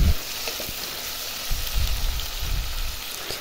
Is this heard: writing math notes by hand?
no